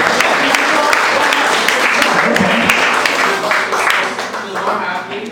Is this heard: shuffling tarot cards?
no